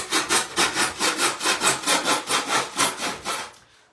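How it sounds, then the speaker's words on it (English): Drywall knife sawing back and forth through a foam sheet, about fourteen quick, even rasping strokes close up, loud and steady before trailing off at the end. "I've got my drywall knife or sheetrock knife."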